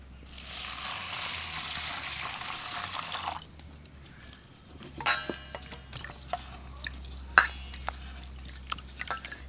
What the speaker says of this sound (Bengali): চালের মধ্যে দিয়ে দেব জল।